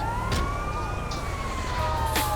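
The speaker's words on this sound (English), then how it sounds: "And I'm hearing sirens." A wailing siren in GTA Online rises and falls over a dense, rumbling background of engine and traffic noise, sustained and moderately loud.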